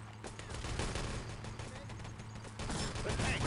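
Rifle fire in a competitive video game match between national teams, dense overlapping shots and clatter running continuously under a busy game mix, with a low steady hum beneath.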